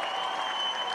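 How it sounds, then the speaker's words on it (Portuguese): Crowd applause at a presidential election victory speech, a brief burst of steady broadband clapping, fairly loud and continuous. "O público aplaude novamente."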